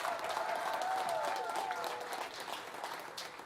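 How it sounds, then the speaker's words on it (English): An audience at a public school event applauding, a moderately distant crowd clapping that stays full for a couple of seconds and then gradually thins out. "Let's give her a round of applause."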